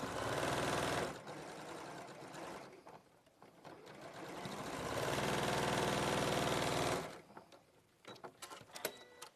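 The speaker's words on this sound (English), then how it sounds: "you could get this all the seams all nested together before you even get to the sewing machine" A sewing machine stitches quilt seams in a steady, loud mechanical whir that runs for several seconds, pauses briefly, resumes, then stops, leaving scattered small clicks and handling noises.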